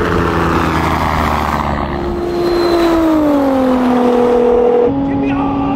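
A 750 hp Nissan GT-R races a helicopter, its engine tone rising and falling in strong harmonic sweeps and shifting pitch abruptly near the end, loud and close over a constant rotor drone, with excited voices shouting.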